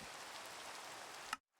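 Rain pours in a video game as a steady, even hiss of drops on surfaces that cuts off abruptly after a little over a second.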